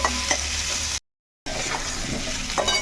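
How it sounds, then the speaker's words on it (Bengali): Thinly sliced onions fry and are stirred in a pan with a loud, close, continuous sizzle and scraping strokes, cut off by a brief silent gap before the sizzling resumes. "এখন পেঁয়াজটা একটু দিয়ে দিলাম পেঁয়াজটা একটু নাড়িয়ে চাড়িয়ে নেব"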